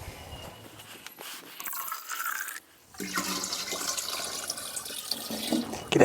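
Water rushes and gurgles into brewery cleaning containers for a sodium bicarbonate mixture, a steady splashing flow that drops out briefly midway, then resumes loud and close.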